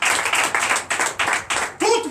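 Church congregation clapping in acclamation during a night deliverance service, a few bursts of hand claps in uneven rhythm, close and moderately loud, with a voice rising at the end.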